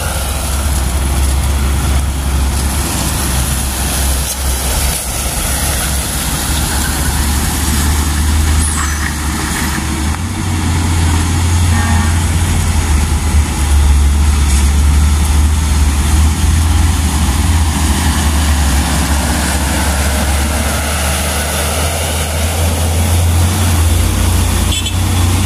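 Two Hino 500 trucks rolling together in convoy, a steady loud diesel engine drone with heavy low rumble throughout, continuous and close with no talk.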